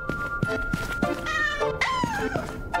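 A video game cat in Final Fantasy VII meows in a few drawn-out rising and falling cries amid game sound effects and thumps, fairly loud and close.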